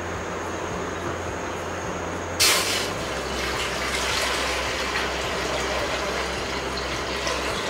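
Water pours into a large cooking pot for boiling one kilogram of rice for egg biryani, a steady gushing fill with a brief splashy burst near the start, heard alone without talking.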